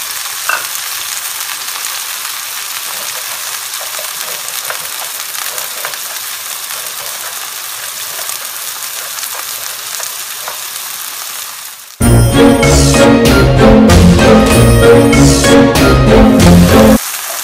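Chopped tomatoes dropped into hot olive oil, a steady close sizzle that suddenly swells into loud crackling and spattering as they hit the pan, then continues busily.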